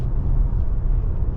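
Steady low road rumble fills the cabin of a 2026 Kia Sportage EX on Kumho tires while driving, a constant near drone with faint wind hiss and no talking.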